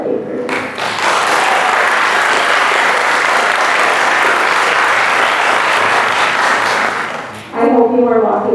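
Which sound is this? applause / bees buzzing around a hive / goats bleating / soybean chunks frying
applause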